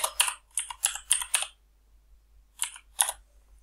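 Fingers type text on a computer keyboard in rapid clattering bursts of keystrokes, then a pause, then a few more taps, all close and crisp with no talking.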